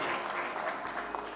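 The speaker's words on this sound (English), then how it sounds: "Let's clap our hands for the man of God." A church congregation claps hands during a Sunday service, soft, even applause with a steady patter, heard at a distance.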